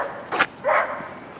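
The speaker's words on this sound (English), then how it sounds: "the incredible dogs that you get to hear up here on the hillside" Dogs on a hillside in Bergen, Norway, give two sharp barks in quick succession, the second longer and fuller, heard at moderate distance over faint outdoor ambience.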